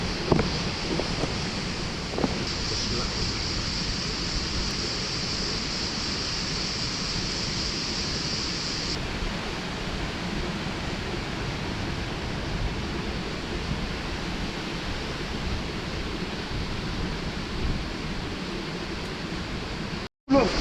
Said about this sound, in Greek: Φυσάει full, αλλά ήμασταν αρκετά προστατευμένοι.